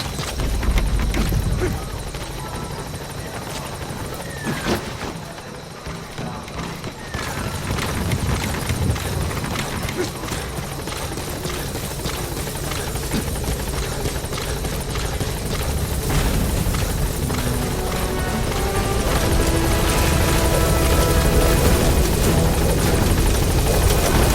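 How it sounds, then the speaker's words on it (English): A support helicopter in Metal Gear Solid V arrives, its rotor thumps and engine roar filling the air continuously, loud and close, growing slightly stronger toward the end. "Support helicopter has arrived."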